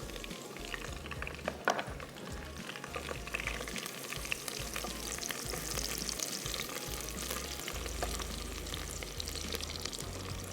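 Garlic sizzling in a hot pan for balti gosht, a steady crackling fry with occasional stirring scrapes, close and continuous throughout.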